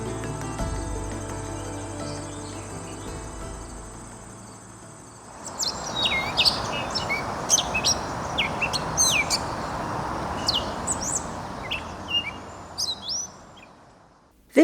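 Birds chirp and call at Cottonwood Flats, a naturalized former industrial site in Toronto. A low background hum gives way to a dense chorus of scattered bright tweets, with a steady insect-like buzz underneath.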